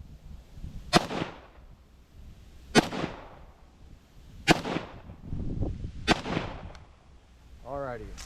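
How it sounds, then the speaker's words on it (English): Four sharp gunshots at roughly even intervals, fired at a target 10 yards away while testing a Swampfox Raider 1x micro prism sight, loud and close with quieter ambient rumble between shots. "Push a couple shots on there and see where we're hitting."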